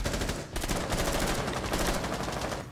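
Rapid bursts of automatic gunfire in the Rainbow Six Siege video game crackle loud and close, a rattling stream of shots broken by a short pause before firing resumes.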